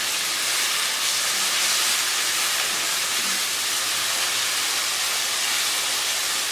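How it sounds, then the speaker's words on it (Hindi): Tomatoes frying with meat for a bhindi gosht salan, stirred with a spoon, give a steady, dense hiss that runs unbroken and fairly loud from start to finish, with no voices over it. "चम्मच चलाते हुए हम इसको फ्राई करेंगे"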